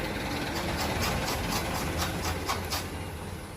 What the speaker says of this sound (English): Ini motornya megapro lama